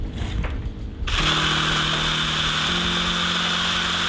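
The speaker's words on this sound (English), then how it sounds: "I'll try to drill a hole in here." A power drill boring a hole, starting with a short rustle and then a steady, loud motor whine that holds constant with a slight shift in pitch partway through, up close and with no voices.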